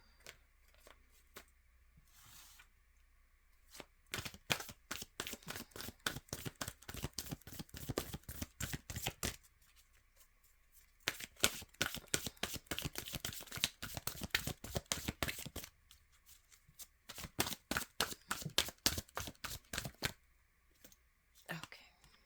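A deck of native spirit oracle cards is shuffled in long runs of rapid, close riffling flutters, pausing briefly between passes, with no talking.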